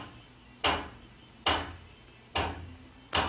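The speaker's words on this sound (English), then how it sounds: "And there goes that hammering." Four sharp hammer blows land at roughly even intervals, each a crisp bang that rings briefly before fading, against a quiet room.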